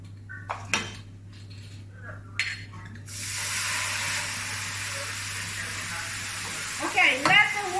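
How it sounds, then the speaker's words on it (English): Wine bubbling and sizzling hard in a hot pan of vegetable risotto with peas, a steady loud hiss with a few clinks of pan and utensil near the start. "let the wine boil up. It must evaporate completely."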